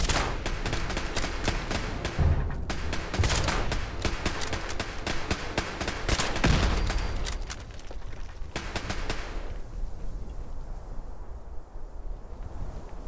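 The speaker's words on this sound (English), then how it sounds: "Sounds like laser turrets?" Laser turrets firing in Fallout 76 near a relay tower on Mount Blair: a dense, rapid stream of sharp zapping shots that keeps up for about nine seconds before fading into windy ambience.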